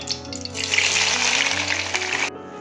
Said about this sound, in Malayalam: ഇതിലിട്ട് നന്നായിട്ടൊന്ന് വറുത്തെടുക്കാം